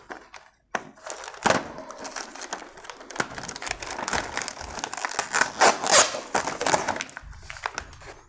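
A cardboard box of frozen Halawani burgers is torn and opened up close, giving a run of crinkling, ripping and tapping packaging noises with no talk.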